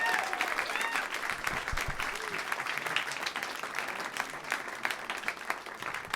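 Audience applause for the guest of honor at a comedy roast, a sustained wash of clapping from a fairly large crowd with a few faint voices mixed in.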